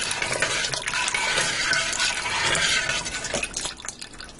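Broth pours from a carton with a small cut hole into a pressure cooker for minestrone soup, a continuous splashing gush that thins and trickles toward the end.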